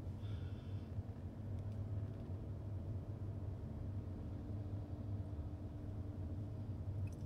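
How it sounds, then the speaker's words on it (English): Steady low drone of a 2019 SEAT Alhambra's diesel engine while driving on the road, a smooth, quiet hum with road rumble and no talking. "Very refined diesel."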